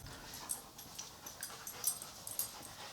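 A dog whimpers and pants nearby in a room, with short breathy whines and sniffs repeating irregularly at a fairly soft level and no speech.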